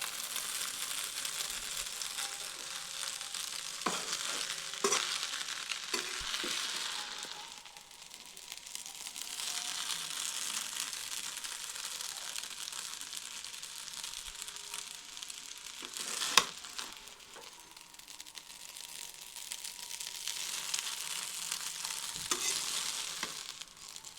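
Street-style chowmein noodles tossed and mixed in a hot pan, a soft continuous frying hiss with occasional spatula scrapes and clatters, close but moderate in level, no voices.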